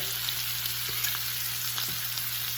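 Bacon and other proteins fry in a pan for Cuban fried rice, giving a steady, close, dense sizzle that carries on alone without pause.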